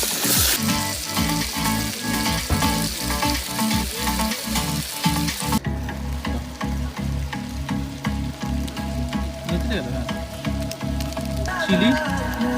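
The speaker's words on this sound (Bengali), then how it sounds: "এবার চিকেনটাকে নাড়ার পালা।" Marinated chicken, cooked in its own fat with ginger and garlic, sizzles loudly in a pan outdoors at a picnic. It is stirred with repeated scraping strokes through a steady frying hiss.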